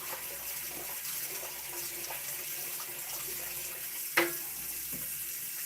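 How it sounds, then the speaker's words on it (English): Water running steadily from a kitchen tap to fill a big Dutch oven for soaking, a continuous moderate splashing rush with one brief louder clatter partway through. "I'll just let that water fill up."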